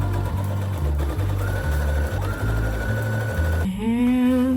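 A sewing machine runs in steady bursts, stitching a gathered black linen skirt onto a summer dress bodice, its motor hum pulsing through several short runs before a brief higher whir at the end.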